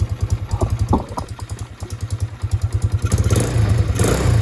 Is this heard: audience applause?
no